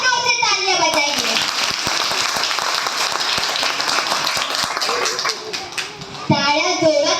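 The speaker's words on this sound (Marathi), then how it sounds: "उनके सभी सदस्य के लिए एक बार और जोर से तालियां बजाइए" An audience at a Buddhist Ashwin Purnima and Dhammachakra Pravartan Day gathering claps loudly and steadily, a dense burst of applause between a voice speaking over a sound system at the start and end.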